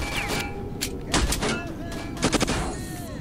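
A few pistol shots in S.T.A.L.K.E.R.: Shadow of Chernobyl, sharp cracks in two short clusters over a quiet game background.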